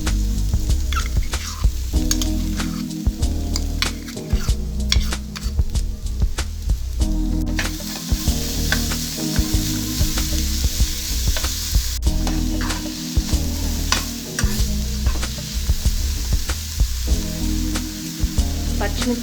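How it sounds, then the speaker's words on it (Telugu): Ivy gourd pieces fry in a pan as green chili paste goes in, giving a loud, continuous sizzle with rapid stirring clatter of a spoon against the pan for the whole stretch. "దొండకాయ ముక్కలు ఫ్రై అయిన తర్వాత ముందుగా మిక్సీ పట్టిన పచ్చిమిరపకాయ పేస్ట్ వేసుకోవాలి."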